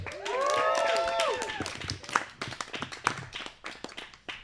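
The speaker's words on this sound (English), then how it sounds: "Please give it up for Kat Radley, everybody!" Audience applause at a live comedy show breaks out, with cheering and whoops at first, then tapering into scattered individual claps.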